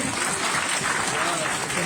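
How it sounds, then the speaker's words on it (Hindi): Children applaud at a college NSS valedictory and prize distribution session, a thick, steady roar of clapping from a large group, close and continuous, with voices mixed faintly beneath. "इस्तेमाल करें बच्चे जोरदार तालियों से"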